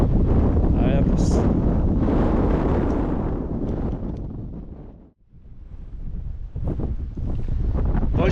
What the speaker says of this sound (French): je vais pas trop m'éterniser là au sommet du Lindus, c'est pas mal de vent